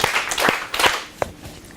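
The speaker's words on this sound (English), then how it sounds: "I want you to clap 3 times if you agree that 10 groups of 2 is 20." A third-grade class claps in scattered, uneven bursts, several quick claps close together, loud and near with no talking.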